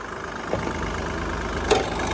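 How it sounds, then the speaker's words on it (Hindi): The three-cylinder M-Hawk diesel engine of a 2024 Mahindra Bolero N10, rated at 98.5 BHP, idles with a steady low rumble close by. A couple of faint clicks sound over it, and nobody speaks. "ये देखो M-Hawk का डीजल इंजन जो कि प्रोड्यूस करता है"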